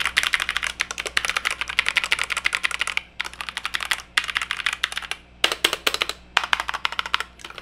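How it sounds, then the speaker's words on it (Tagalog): Fast typing on a ZA64 Pro mechanical keyboard with a 60% layout, a dense stream of close, crisp clacks in quick bursts separated by short pauses. "ng isang keyboard, ito yung ingay niya."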